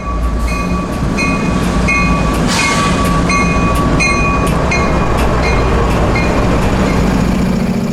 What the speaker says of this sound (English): As 457 gets closer to that TDSI lead, he slows the train down to a crawl.